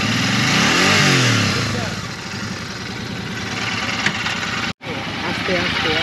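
Motorcycles ride along a bypass road, engines droning and revving close by with strong wind noise, while a voice talks over the sound and a brief dropout cuts in near the end.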